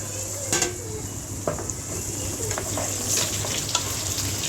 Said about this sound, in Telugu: ఇవి కొంచెం ఫ్రై అవ్వనిచ్చి దీనిలోకి రెండు మీడియం సైజు టమాటాలను అయితే వేసుకున్నామండి